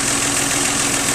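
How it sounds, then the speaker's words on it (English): The three-cylinder engine of a 1997 Geo Metro idles loudly and close up, a steady rough drone with a faint knocking pulse throughout and no voices. "the camera doesn't show the motor moving around on the 3 cylinders"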